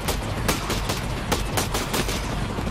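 Rapid gunfire rattles in the shooter game Ghost Recon Breakpoint, a dense burst of sharp repeated shots at steady loudness with no speech over it.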